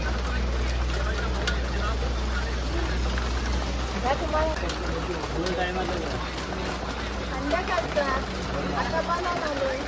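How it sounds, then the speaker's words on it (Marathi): Steady heavy rain drumming on a surface with a constant low engine rumble underneath, while people talk over it intermittently. "झोडा पाऊस"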